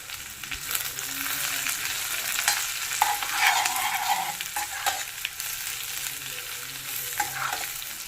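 Coconut and spices for kobbari karam podi fry in oil on a slow flame, giving a soft continuous sizzle with intermittent stirring scrapes of a spoon in the pan.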